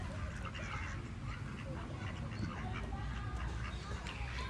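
Ducks quacking softly at a distance over a steady low rumble of outdoor background noise.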